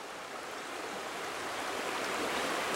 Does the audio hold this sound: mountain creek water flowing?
yes